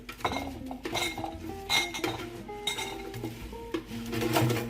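Roasted potatoes tipped into a bowl with a spoon, a run of clinking and scraping knocks of metal on dishware, close and fairly loud in irregular bursts.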